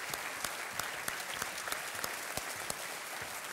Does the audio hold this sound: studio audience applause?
yes